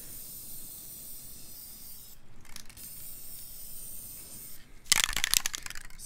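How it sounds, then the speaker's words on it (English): Two short bursts of hissing clear low-odor fixative spray onto oil pastel paintings, a faint one early and a stronger, longer cloudy mist near the end, over quiet background noise. "It's got a really nice spray, like a really cloudy mist to it."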